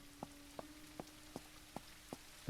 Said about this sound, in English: It rains a lot here, I'm finding.